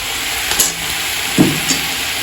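Mixed vegetables hitting a hot wok of oil with fried-down spices, giving a steady close sizzle with a few soft stirring scrapes and small bursts.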